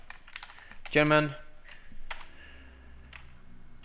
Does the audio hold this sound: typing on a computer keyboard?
yes